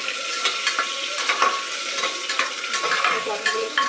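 Pointed gourd pieces frying in a pan, a steady close crackle with repeated stirring scrapes and small clatters throughout, no voices.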